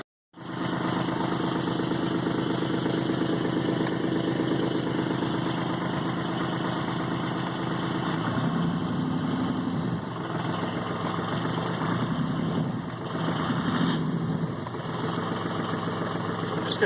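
A Yanmar 30hp marine diesel engine idles at around 900 to 1,000 rpm, a steady close-up rumbling chug that holds level throughout.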